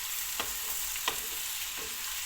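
Purslane being stirred into tomato paste in a frying pan, with a few soft, separate scrapes of the spoon over a steady low sizzle and no voices.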